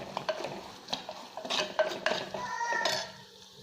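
Spice powder fries in oil for a Kerala mango curry while a spoon stirs it, making a series of close scraping and clinking strokes over a soft, low sizzle, with no talking.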